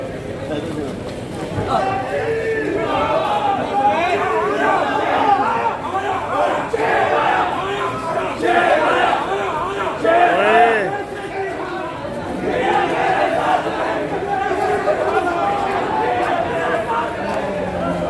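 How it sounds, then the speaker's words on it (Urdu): Supporters chant slogans inside a high court courtroom, with a dense crowd of raised voices shouting and chattering together. The noise swells in waves and stays loud and continuous throughout. "اب یہ عدالت کے اندر جو ہے نا وہ نعرے بازی ہو رہی ہے"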